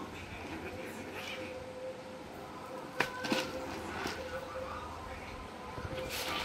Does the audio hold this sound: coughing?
no